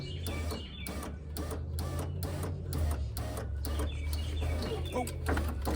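Power window motor in a 2003 Chevy crew cab raising the glass, a steady low whirring hum with repeated rhythmic clicks and squeaks from the regulator, close and continuous.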